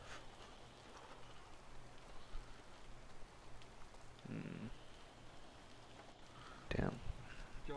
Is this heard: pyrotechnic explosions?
no